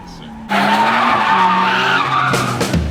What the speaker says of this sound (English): both cars were able to do burnouts and drifts with ease